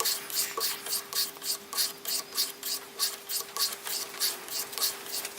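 A knife blade is stropped on a bare leather belt, giving a steady rhythmic series of soft rasping strokes, close up and evenly paced, about four per second, alone without talk.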